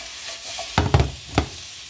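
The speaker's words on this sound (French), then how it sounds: "Là on commence à avoir quelque chose de bien caramélisé" Ingredients caramelize in a pan with a soft sizzle, broken by three quick, close scraping stirs near the middle.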